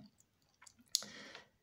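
A few quiet button presses on a keypad code door lock bought from AliExpress, followed by a short electronic beep confirming the setting, close and faint.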